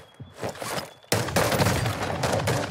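Rapid gunfire in the video game Call of Duty Warzone, starting abruptly and continuing as a dense, loud fusillade with sustained bursts close by.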